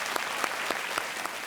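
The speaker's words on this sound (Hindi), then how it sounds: "एक बार फिर तालियों के साथ इनका यहाँ स्वागत किया जाए" Studio audience at a Hindi television quiz show, Kaun Banega Crorepati, applauding steadily to welcome a male contestant; dense, sustained clapping throughout with a few sharper claps standing out.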